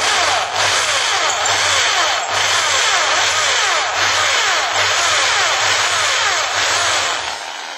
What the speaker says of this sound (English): So just note how slowly that I'm drilling. Just through the body of the bolt tail.